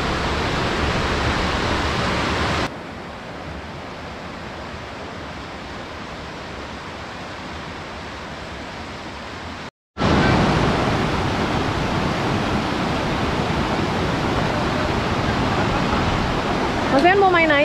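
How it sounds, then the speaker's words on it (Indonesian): River water rushes at a campsite in Cidahu, a steady, close roar of flowing water that cuts abruptly to a quieter stretch and back, with people talking intermittently. "di sini ada lagi sungainya, kita belok ke sungai"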